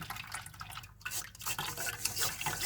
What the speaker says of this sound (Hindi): अब हम इसी छलनी के साथ लस्सी को भी छान लेंगे